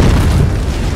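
Grenade explosion in a first-person shooter video game: a loud, close, rumbling boom filling the whole moment with heavy low-end roar.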